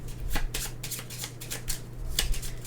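Board game cards being shuffled in a quick series of crisp riffles and snaps, fairly close and moderately loud, with a steady low hum underneath.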